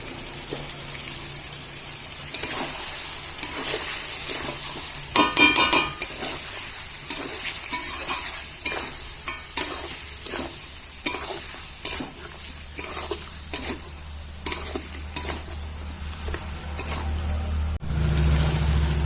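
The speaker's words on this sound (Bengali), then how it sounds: "দেখুন বন্ধুরা মাংসটা আমি খুব ভালো করে কষিয়ে নিচ্ছি কষাতে কষাতে" Mutton stir-fries in a pan over a wood-fired stove, a continuous sizzle punctuated by regular scraping, clattering stirs up close, with no talking.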